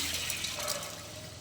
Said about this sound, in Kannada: ನೀರು ಹಾಕೋತೀನಿ